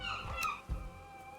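A bird calls in the video game Valheim, a short, close, tonal chirp over low game rumble, followed by a soft thud.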